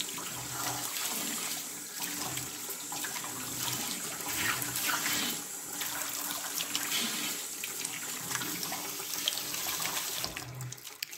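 Water runs steadily from a Delta kitchen faucet into a sink, a continuous splashing stream at moderate level that barely changes from start to finish.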